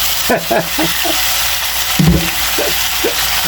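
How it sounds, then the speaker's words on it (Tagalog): Mussels (tahong) sautéing in a pan, a steady close sizzle with intermittent clinks and stirring scrapes, with a voice briefly heard. "Isa-gisahin po muna natin ang bahagya"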